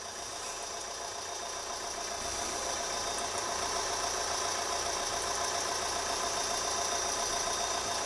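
A 2010 Vauxhall Insignia with an excessive-flow EGR fault idles at standstill, giving a steady, even mechanical hum with a faint rhythmic knock, heard alone and unchanging throughout.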